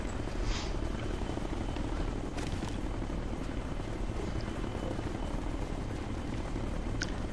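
A helicopter in the video game Ghost Recon: Future Soldier makes a steady, loud rotor drone that carries on without a break for over seven seconds, with a few faint clicks and no clear talking.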